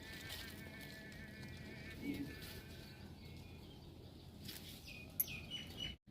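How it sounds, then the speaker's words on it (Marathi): Birds chirp and call around a home garden in Maharashtra just after monsoon rain, faint and scattered over a quiet outdoor background with a brief clatter near the end. "पक्ष्यांचा मस्त असं चिवचिवाट येतोय पाऊस उघडून गेल्यानंतर."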